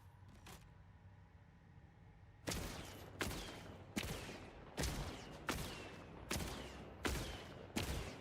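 An assault rifle fires in a video game with seven loud, evenly spaced single shots, each one a sharp crack followed by a short decaying tail, heard after a quieter stretch of low background hum.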